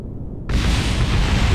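A test rocket explodes in a space game, a sudden loud roaring blast that swells in and holds as a dense, rumbling wall of noise.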